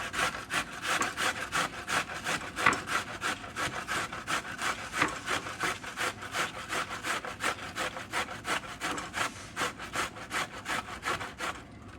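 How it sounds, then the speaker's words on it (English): A sweet onion rubbed against a metal box grater, giving a steady, fast back-and-forth rasping that repeats evenly throughout, close and fairly loud with no talking. "I think I'll run it through the box grater."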